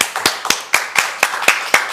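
Audience applause welcoming a guest, heard as about eight evenly spaced, crisp hand claps, close and fairly loud.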